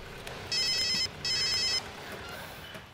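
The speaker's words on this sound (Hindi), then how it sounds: "आपका फोन बजा" A telephone rings in two clear bursts of electronic trilling, loud and close, in a quiet room with no talk over it.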